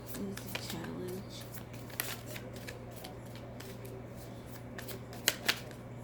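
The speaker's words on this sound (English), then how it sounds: "These cards are sometimes annoying to shuffle." Tarot cards are shuffled in quick riffling bursts with a few sharp snaps of cards, close and fairly quiet, over a low steady hum.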